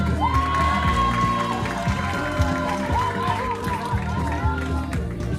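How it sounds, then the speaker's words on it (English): An audience at a commencement ceremony keeps clapping and cheering for a graduate, a dense continuous wash of applause with scattered shouts and an excited voice, loud and sustained throughout. "Continue clapping for Abel."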